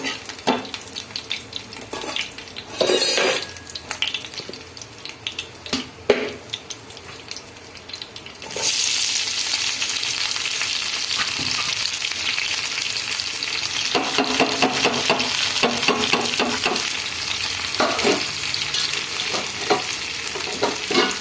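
Tempering spices frying in hot oil, starting with sparse stirring and clatter, then a sudden loud burst of dense, crackling sizzle that continues steadily with spoon scrapes mixed in.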